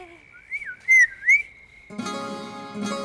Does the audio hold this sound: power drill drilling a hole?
no